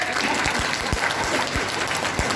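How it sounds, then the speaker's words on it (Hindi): An audience at a gathering of Hindi poets claps steadily, dense continuous applause heard at moderate distance. "एक बार ताली बजा दीजिए जोर से"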